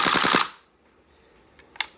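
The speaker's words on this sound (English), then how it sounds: "And with it installed, put it back to full auto, you can now see the rate of fire increases." GHK AK airsoft rifle fitted with a rapid fire kit shooting a fast full-auto burst of about half a second, rapid rattling clatter up close, then quiet with a couple of faint clicks.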